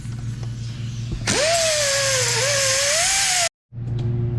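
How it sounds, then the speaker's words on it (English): A pneumatic air angle grinder spins up with a sharp whine and runs at a steady high pitch, polishing a weld on cast iron, then cuts off abruptly. "this is just a air angle grinder."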